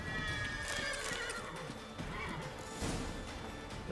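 A horse in The Witcher 3 gives a loud whinny over clip-clopping hooves, with clashing game effects and a faint voice in the background.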